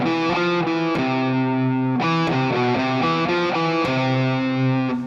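Distorted electric guitar plays a fast alternate-picked lick shape, rapid even note bursts in repeating groups, loud and close with no voices.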